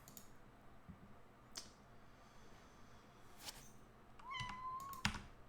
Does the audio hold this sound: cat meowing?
yes